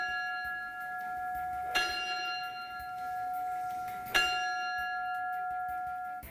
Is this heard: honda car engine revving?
no